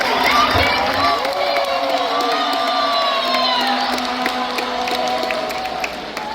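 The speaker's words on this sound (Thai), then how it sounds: "ขอเสียงปรบมือดังๆต้อนรับทีมชาติลาว" A large stadium crowd at a Sri Lanka vs Laos match in Laos cheers and shouts continuously, with whoops and clapping mixed into a loud, steady roar.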